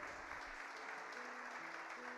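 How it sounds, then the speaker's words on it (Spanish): Faint, distant applause from a church congregation, a steady wash of clapping that holds evenly for a couple of seconds with no voices on top. "Dale un fuerte aplauso."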